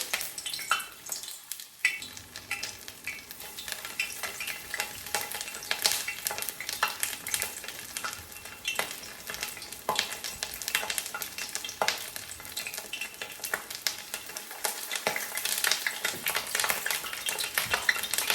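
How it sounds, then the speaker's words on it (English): Homegrown artichokes fry in a pan of hot oil, giving a loud, continuous close-up sizzle and crackle with scattered clinks and stirring sounds and no voices. "And the oil will cool down as I put more of these artichokes in there."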